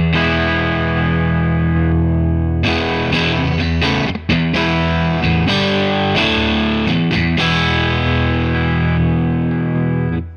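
A Fender American Ultra II Stratocaster electric guitar in pickup position 2 plays a heavily distorted passage of sustained chords with sharp rhythmic stabs and brief breaks, loud and alone with no talking.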